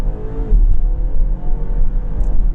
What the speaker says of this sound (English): let's kind of rev this one here.